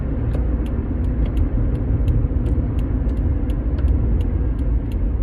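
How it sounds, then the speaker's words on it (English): A car on the road, its steady low rumble of engine and tires filling the cabin, with faint light clicks ticking at intervals over the drone and no talking. "I'm currently driving to my vaccine destination"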